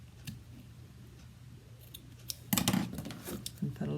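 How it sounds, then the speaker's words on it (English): Scissors snip through rope for a crafted sign, several crisp cuts clustered near the end after a quiet stretch with faint handling noises, close and distinct. "I think I am going to just give that a little snip"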